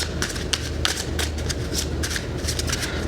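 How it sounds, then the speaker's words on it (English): Tarot cards shuffled by hand in a steady run of soft, rapid riffling flicks, close and fairly loud, with no talking over it. "Give it a nice another shuffle here."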